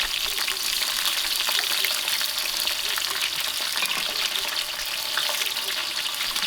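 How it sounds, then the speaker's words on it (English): Ginger garlic paste fries in a large pot over an outdoor wood fire while vegetable biryani is cooked for 25 people, a continuous, fairly loud crackling sizzle that holds steady throughout. "To that I'll add about 3 tablespoons of ginger garlic"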